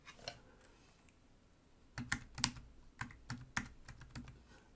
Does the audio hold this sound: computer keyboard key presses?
yes